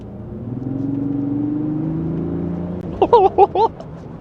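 A Lexus GX 550 SUV's exhaust grumbles low and steady in sport mode for a few seconds, then a person speaks briefly over the fading rumble.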